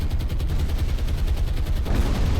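Heavy rumbling boom and rapid crackling of a torpedo striking a ship in the naval video game War on the Sea, a dense low roar sustained across the moment.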